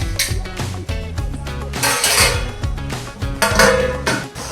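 A metal plate clatters and clinks against a pan as it is set over it as a cover, a run of loud, irregular metallic knocks and rattles close by.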